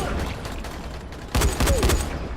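Rapid gunfire bursts in the zombie survival video game Dying Light, set in a museum level, with a muffled stretch of game noise giving way to a loud, dense cluster of shots in the second half.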